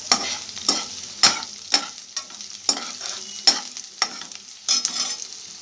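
Urad dal, onion and curry leaves sizzling in hot oil for a tempering, broken by repeated sharp scraping stirs at a steady rhythm, close and fairly quiet with no talk.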